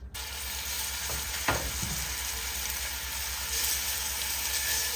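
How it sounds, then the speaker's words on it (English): Beef browning in very hot oil in a stew pot gives a steady, broadband sizzle throughout, with a brief louder crackle near the middle and no voices. "I need the oil to become really hot because we're going to be browning our meat"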